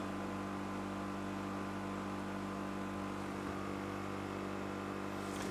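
Central locking vacuum pump of a 1980s–1991 W126 Mercedes sedan running continuously, a steady droning motor hum with strong low tonal bands and little change over several seconds, heard close and alone.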